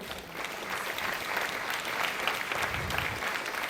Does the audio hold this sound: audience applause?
yes